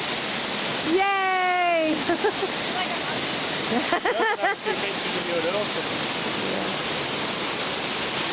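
Waterfall outdoors by rocks on a hillside, a steady loud rushing roar throughout, with a person's whooping cheer and brief excited voices over the top.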